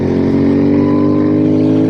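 A custom Royal Enfield Interceptor 650 motorcycle engine with an aftermarket pipe drones steadily at high revs, a loud continuous roar with a bright harmonic whine, heard up close without any voices.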